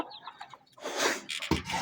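A hen clucking in a backyard flock kept with a rooster, a few short soft clucks followed by louder, denser squawking nearby.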